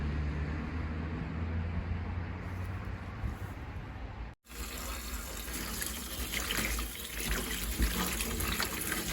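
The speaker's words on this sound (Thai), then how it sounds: "ได้มาก็เอามาล้างนะคะ ก็เอามาล้างจีบผัดใส่มีได้จากพี่น้องค่ะ" Tap water runs into a sink as freshly picked wild spring onions are washed, a continuous splashing stream broken by one brief pause before the flow resumes with louder, brighter splatter.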